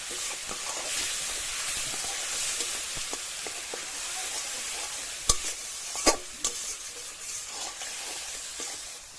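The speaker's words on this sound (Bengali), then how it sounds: "এবার মশলাটা কষিয়ে নেব।" A spice paste with turmeric and salt sizzles and hisses steadily in a pan as it is sautéed for a Bengali fish curry, with a few sharp scrapes and knocks from the stirring spoon.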